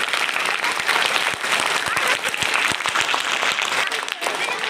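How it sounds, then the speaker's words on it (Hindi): A crowd breaks into loud, sustained applause at a youth group gathering, with dense overlapping claps that fill the whole stretch at close range and barely waver. "तो मेरे लिए ताली बजा लो"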